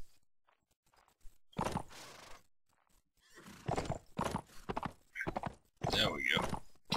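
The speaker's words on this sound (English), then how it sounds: "Horses can be wily beasts." Horse hooves and whinnies from a mount in the video game Mount & Blade: With Fire and Sword, heard as short bursts of clopping and neighing at close range, broken by gaps and mixed with game sounds.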